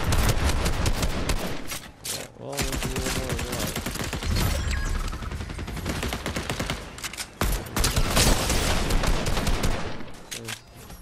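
Dense gunfire in Fortnite crackles in rapid bursts of automatic and repeated shots, loud and close, nearly continuous with a couple of brief pauses between volleys.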